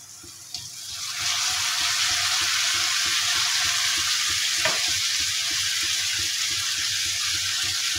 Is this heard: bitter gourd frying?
yes